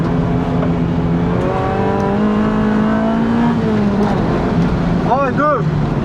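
Honda CRX VTEC engine on a circuit, a loud, steady in-car drone whose pitch climbs as it runs up to the rev limiter, with a person's excited voice over it near the end.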